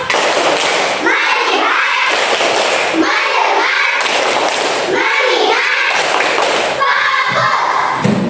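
A class of third-grade children play the tepuk fokus clapping game, clapping in quick patterned groups with short gaps between and chanting along loudly in unison.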